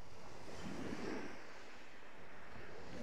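Sea waves wash ashore at night on a clean beach, a soft, steady surf hiss with one gentle swell rising and falling, faint and distant, with no voices.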